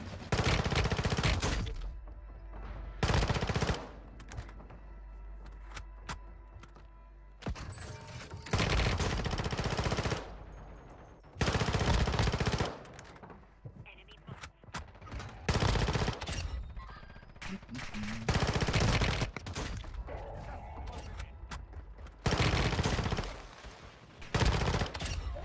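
Bursts of automatic gunfire in the Warzone Mobile shooter game, loud rapid volleys separated by short quiet gaps, repeated several times.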